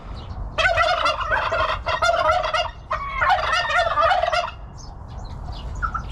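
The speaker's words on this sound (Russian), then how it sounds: "Здесь еще немножко индюков." Turkeys in a park animal enclosure gobble in two loud, rapid rattling bursts, then a few fainter calls over low background rumble. No one speaks.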